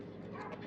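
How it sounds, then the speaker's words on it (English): A dog barks once or twice somewhere in the background, faint and distant, in a brief moment without talk. "a dog just barked in the back."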